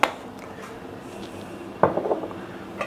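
A lid is set over a pot of potatoes cooking in olive oil: one sharp metallic clank at the start, a quiet stretch, then a burst of rattling clatter as the lid settles, close and without speech.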